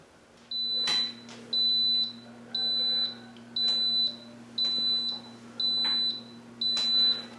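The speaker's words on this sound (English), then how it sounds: "it beeped that it had come to the boil, and now it's beeped to say it's going to make yogurt" A kitchen appliance heating cream emits a high electronic beep seven times at a steady, even pace over a low constant hum, each tone about half a second long.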